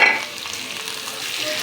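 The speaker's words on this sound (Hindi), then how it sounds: "बस इनको थोड़ा सा हमने तेल में से फ्राई करना है।" Ridge gourd (tori) frying in oil with chopped onion, giving a steady close hiss and crackle that eases slightly after a louder start, with no voices.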